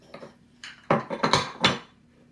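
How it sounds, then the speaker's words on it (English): Milk, eggs and butter being mixed into a gluten-free batter in a bowl, giving a handful of irregular knocks, clinks and wet scrapes that rise and fall over a couple of seconds, close by with no talking. "now I am mixing in the liquid ingredients, just like that"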